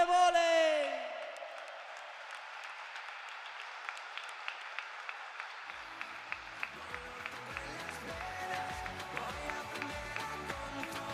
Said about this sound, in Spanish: pido un fuerte aplauso para el equipo de Costa de Vóley